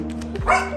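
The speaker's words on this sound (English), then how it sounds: "I apologize for my dog" A single short dog bark, close and moderately loud, over a steady low hum.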